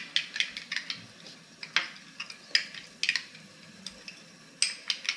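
A spoon stirs paneer butter masala with coriander powder in a pan, producing light metallic clinks and taps at an irregular rhythm over a faint background, with no talking.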